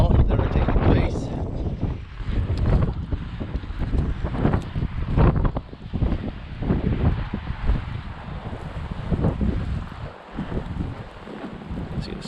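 Strong snowstorm wind in whiteout conditions, with snow blowing off a roof, roars as loud, gusting buffets against the microphone, rising and falling throughout.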